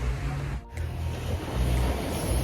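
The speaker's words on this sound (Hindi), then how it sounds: "समुंदर की लहरें।" Steady rushing surf of sea waves breaking close by, a broad continuous wash with a brief dip early on, no voices.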